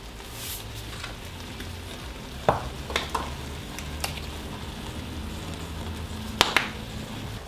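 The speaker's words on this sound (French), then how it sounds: "Je laisse mijoter tout ça pendant 5-10 minutes, histoire que ça s'imprègne bien des épices." Burrito filling seasoned with plenty of cumin, salt and pepper simmers in a pan, giving a steady soft bubbling sizzle with a few sharp clicks and taps of a utensil against the pan; no one speaks.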